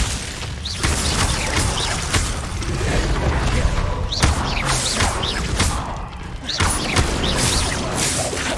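Glacius freezing spell cast during Hogwarts video game combat: a continuous crunching, mechanical clatter punctuated by several heavy thuds and crashing impacts, loud and close throughout.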